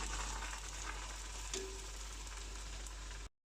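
Mullu murungai keerai (thorny drumstick leaf) vadai frying in hot oil, a steady close hiss of sizzling with a brief soft pop, no voices, cutting off abruptly near the end.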